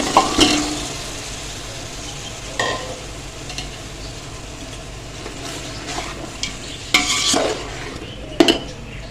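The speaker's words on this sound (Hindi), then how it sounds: "तो सबसे पहले हम इसमें डालेंगे बॉईल किए हुए चने" Boiled chickpeas stirred into a sizzling tomato masala in a pot, a low continuous frying hiss broken by several scraping stirs and metal spoon clinks against the pan.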